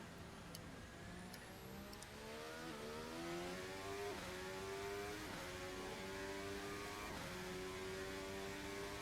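Open-wheel RSS Formula Hybrid X 2026 race car in Assetto Corsa droning steadily through a warm-up lap, its engine note rising and dropping in pitch with repeated shifts and revs, loud and continuous throughout.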